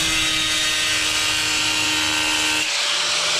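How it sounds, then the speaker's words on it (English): Angle grinder cutting a hole in tile, a loud, continuous high whine with gritty abrasive hiss that drops off sharply near the end as the blade eases out. "just let the weight of the grinder do it"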